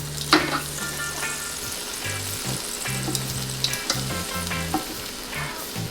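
Ginger-marinated amberjack fillets with pineapple fry in a pan, a loud steady sizzle and crackle close up, with occasional sharp pops, scrapes and a low hum running underneath.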